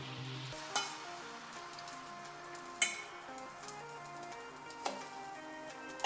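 French toast soaked in egg frying in a pan, a steady soft sizzle running throughout with a few faint clicks and taps of utensils, no talking.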